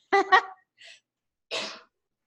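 A single close sneeze: a short voiced intake followed by a sharp, breathy burst, then silence.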